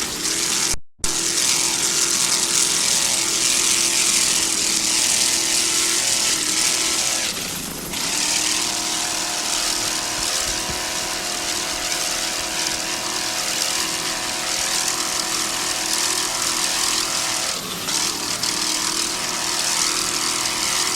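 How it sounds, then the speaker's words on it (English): A 26-foot Checkmate powerboat with a single 500-hp Mercury inboard and MerCruiser drive races in the Key West World Championships, its engine a loud, steady, unbroken roar with two brief dips in pitch as it runs. "a 26-foot checkmate powered by one 500-horsepower Mercury inboard with the Mercruiser drive"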